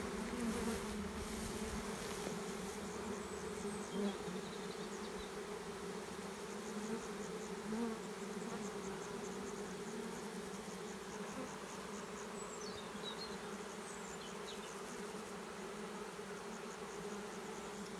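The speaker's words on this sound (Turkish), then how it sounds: "arılar bir öğlen 10'dan 11'den sonra tam sıcağa doğru oğul çıkarıyor" Dense, steady buzzing of a large honeybee swarm, continuous and enveloping for the whole stretch, with no voices.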